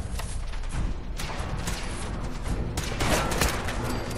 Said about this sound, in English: This gun is not accurate. I need to mod it so it doesn't have this spread shot.